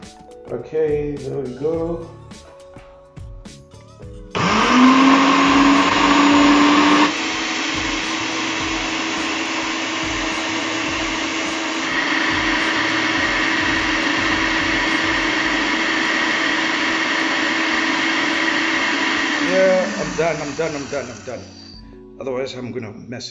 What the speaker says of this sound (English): they're ready to be blended